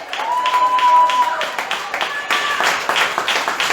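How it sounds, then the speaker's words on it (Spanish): A church congregation applauding during a Spanish-language worship service, a short burst of clapping heard together with voices and a held musical tone, fairly loud and close. "Den un aplauso al Señor,"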